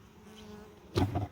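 A single angry honey bee buzzing near a hive: a thin, steady drone that rises into a brief louder, close buzz near the end.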